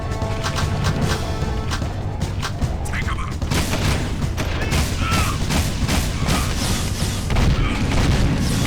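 Gunfire in the Jak II video game, with rapid bursts and booming blasts over a dense, loud backdrop of game noise and mechanical clatter.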